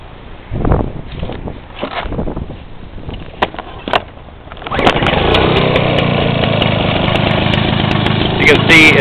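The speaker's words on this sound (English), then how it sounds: "This is a warm start and I'll do it at idle." Briggs and Stratton Duraforce lawn mower engine cranks during a warm start after some handling noises, then settles into a loud, steady, close idle drone with no surging.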